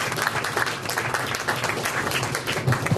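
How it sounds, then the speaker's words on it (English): An audience at a talk on the energy market gives a round of applause, a dense steady clatter of many hands clapping throughout. "if you could give him the normal round of applause for his contribution"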